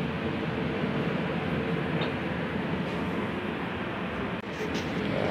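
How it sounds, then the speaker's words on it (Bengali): Inside a running Jaipur–Delhi AC double-decker train, a constant low rumble and rattle of the carriage fills the space, with a faint knock partway through. "আমরা এখন ট্রেনের ভেতরে আছি"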